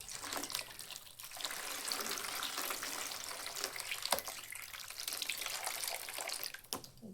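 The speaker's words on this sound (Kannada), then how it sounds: "ಎಲ್ಲ ನೀರು ತೆಗೆದುಬಿಡ್ತೇನೆ ಅದ್ರದ್ದು ಹುಳಿ ನೀರು" Sour water poured off soaked pickle ingredients in a kitchen, a continuous splashing, trickling flow with a brief pause near the start and a few sharp drips and clinks, with no talking.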